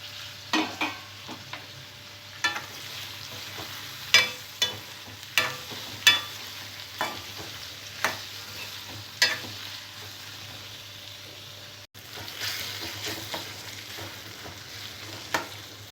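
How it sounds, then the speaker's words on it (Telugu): Ivy gourd (tindora) pieces fry in a pan for a masala curry, giving a steady soft sizzle with regular stirring scrapes and clinks about once a second, close and alone. "దొండకాయ ముక్కలు వేసిన తర్వాత మూత పెట్టి సిమ్లో బాగా ఫ్రై చేసుకోవాలి."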